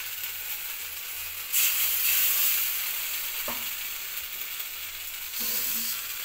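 Horse gram and coconut paste frying in a pan, a steady broadband sizzle that surges louder as the paste goes in, with a brief scrape of a spoon partway through and another loud burst near the end.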